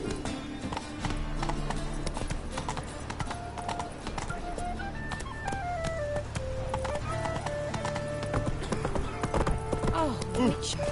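Geralt's horse Roach in The Witcher 3 clip-clops steadily along at a constant pace, hooves running under game music and a voice talking.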